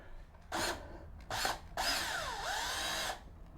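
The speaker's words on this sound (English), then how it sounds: "I'm going to use the drill and tighten that up." A power drill tightens the fender bracket on a Mokwheel Basalt ST 2.0 e-bike, whirring close up in two short bursts followed by a longer run whose pitch dips and rises.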